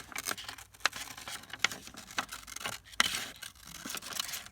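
Scissors cut through lace or paper in quiet, close snips, with soft rustling and small crisp clicks recurring irregularly while embellishments are trimmed.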